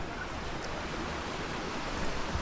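A flowing stream (sapa) in a hidden nature spot rushes with steady, broad watery noise, continuous and moderately close, with no voices.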